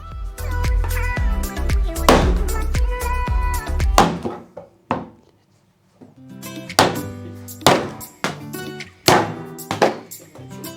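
A Cold Steel SR1 Lite folding knife chops at a tin can, producing a dozen or so sharp, close metallic thunks in uneven bursts with short quiet gaps between strikes.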